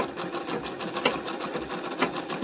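A pico sewing machine runs steadily, stitching a fine edge on a saree, its rapid even whirr continuing close up and loud throughout without any talk.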